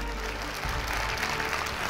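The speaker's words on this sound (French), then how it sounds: "Pour tous les autres, amis bénévoles, ovation." Audience ovation for volunteer workers at a gathering, steady applause throughout with a crowd murmur beneath, a brief dip partway through before the clapping swells again.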